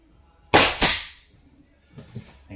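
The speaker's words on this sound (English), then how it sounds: "I'm blind nailing it, so I'm angling them down and shooting one at each joist" Nail gun blind nailing at an angle into wall joists: two sharp, loud pneumatic shots in quick succession, close by, followed by faint clatter.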